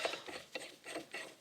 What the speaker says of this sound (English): hammering of the impact loosens these a little better